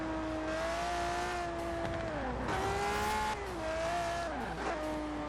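The stock engine of a classic Ferrari 250LM in Forza Horizon 4 sings with a loud, smooth, high-pitched howl that rises and dips with the throttle, with tires squealing briefly during a slide.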